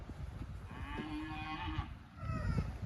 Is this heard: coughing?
no